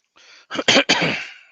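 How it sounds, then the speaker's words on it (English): A person gives a nervous, medication-related cough: a short burst of two or three close, loud coughs with a throaty clearing at the start. "I start coughing. I have a nervous cough and also medication coughing."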